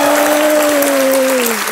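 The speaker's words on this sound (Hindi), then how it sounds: "तालियां बजती रहे" Studio audience applause on the Hindi game show Kaun Banega Crorepati, loud sustained clapping over a steady musical tone, with no talking.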